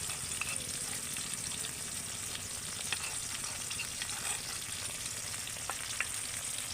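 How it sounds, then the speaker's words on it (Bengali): Chillies and spices sizzle steadily in hot oil in a home kitchen while a flour-based dish is cooked, a close, continuous crackling fry with scattered pops and no voices. "এবার এগুলোকেও তেলের সাথে একটু ভেজে নেব"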